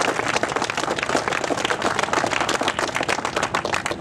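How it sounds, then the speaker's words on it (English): Outdoor audience applause at the Rollins Road Gateway road project completion ceremony in Lake County, a brisk patter of many hands clapping steadily and evenly, close and moderately loud throughout. "So let's give a round of applause about that."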